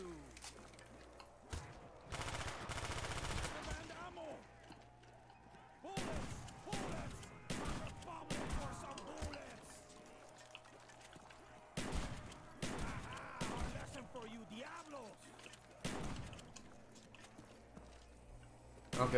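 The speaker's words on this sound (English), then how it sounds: "unload the MP5" MP5 submachine gun fire in a Roblox TDS zombies game, several rapid bursts of sharp automatic shots spread across the stretch, separated by quieter gaps with faint background tones.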